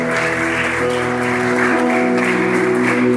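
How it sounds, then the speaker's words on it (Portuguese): A church congregation applauds loudly and continuously, a strong sustained clatter of hands over a held musical chord from instruments playing underneath. "se é para Jesus, aplaudam com mais força"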